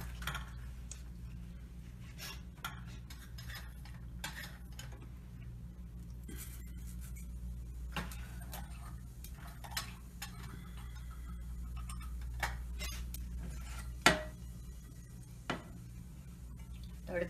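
Mustard seeds and cumin splutter in a tablespoon of hot oil in a pan, giving sparse, faint pops and crackles over a low, steady background hum.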